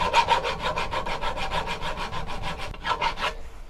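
A file rasps across the end of a wooden walking stick in quick, even back-and-forth strokes, close and steady, with a short break near the end before a few final strokes.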